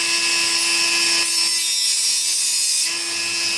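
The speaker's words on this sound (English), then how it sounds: "I'll switch on the Dremel here." A Dremel rotary tool running at fairly low speed while it grinds out grout between mosaic tiles, producing a loud, continuous high-pitched whine with steady tonal hum, close up and with no talk.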